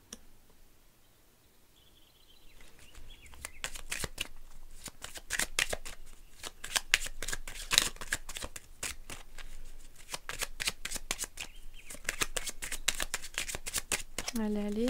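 Horoscope reading cards shuffled by hand in a long run of rapid, crisp riffling clicks, starting after a quiet opening with a brief voice murmur and carrying on steadily close up to the end, with a short voice at the close.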